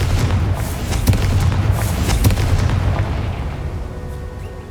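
A Confringo fire spell explodes in the video game Hogwarts Legacy, a loud booming blast with sharp cracks that rolls into a sustained low rumble and slowly fades.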